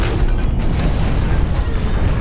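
Continuous rumbling blasts from Grenadier-class grenades spammed into a corridor in the mech shooter Hawken, a loud dense barrage of booms with no pauses throughout.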